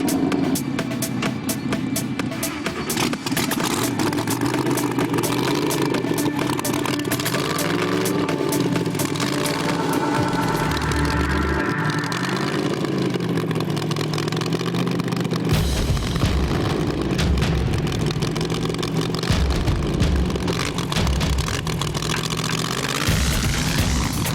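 A car engine idles and revs loudly on the Bonneville Salt Flats, a steady mechanical drone with rising and falling pitch that runs throughout, shifting character partway through as the throttle changes.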